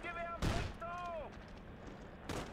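Gunfire from the World War II shooter Call of Duty 3 on PS2 cracks out as two sharp, loud bursts, with a whistling, wavering tone between them.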